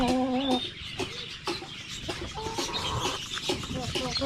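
Native chickens cluck and cackle close by in short repeated bursts, with a rooster's call at the start and rustling in between.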